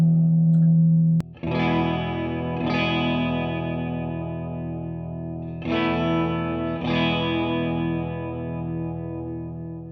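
A few strummed electric guitar chords, two pairs, played through a Keeley Caverns V2 on its tremolo spring reverb setting, each one swelling and pulsing as it decays into a wet spring tail, with no voices.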